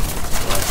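Giribaz pigeons in a flock of about eighty on a loft give brief, close cooing murmurs for a moment.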